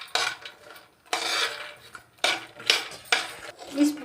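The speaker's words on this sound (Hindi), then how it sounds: "इसी पैन में डाल लेते हैं घी और इसी में मखाने को रोस्ट कर लेते हैं" Fox nuts (makhana) roast in ghee in a pan, with a spoon scraping and clattering against the metal in four distinct, fairly loud bouts and short pauses between them.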